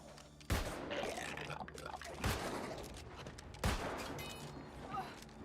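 Musket shots in a video game, three sharp booming reports spaced a second or so apart over a busy background of ambient game sound, with no talking.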